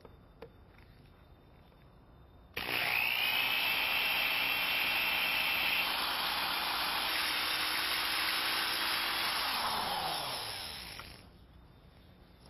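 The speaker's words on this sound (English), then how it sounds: "I'm going to put a drill stop in there. That'll keep me from drilling too far" A power drill fitted with a drill stop bores into a broken car radiator, a steady high whine that starts abruptly, holds loud and close for about eight seconds, then winds down and stops.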